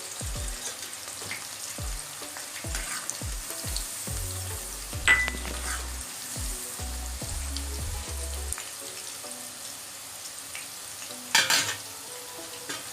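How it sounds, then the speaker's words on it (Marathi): Green chillies frying in oil for poha chiwda, a busy crackling sizzle with spatters and occasional clinks of a utensil against the pan, close and continuous, with a low hum beneath early on. "कढीपत्त्यानंतर आता आपण हिरव्या मिरच्या सुद्धा फ्राय करून घेणार आहोत."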